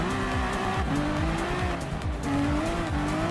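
A Honda NSX rally car roars through a race in the Gran Turismo Sport video game, its engine revving hard and continuously with gear changes and tire squeal, loud and close.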